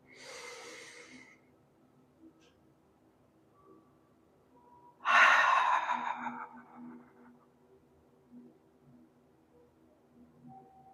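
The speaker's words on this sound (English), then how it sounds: "take a deep breath in and hold it for a moment and then release through your mouth" A deep breath in and a slow exhale through the mouth, heard as two separate airy bursts: a short inhale near the start and a louder, longer breathy release about halfway through, against quiet low background hum.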